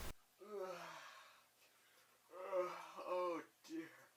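A voiced, drawn-out yawn from Thomas the tank engine, given by a narrator's voice imitating the engine, with a long groaning yawn and then a shorter sighing one after it.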